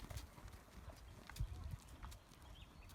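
Hooves clip-clop steadily in an arena during a dressage lesson, an irregular run of soft thuds and scuffs at moderate distance over low background rumble.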